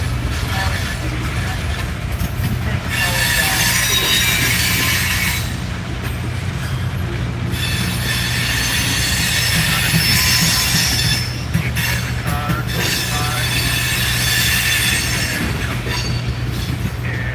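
A freight train rolls steadily out of a rail yard with loud, sustained wheel squeal and rumbling, the metallic screech rising and falling throughout.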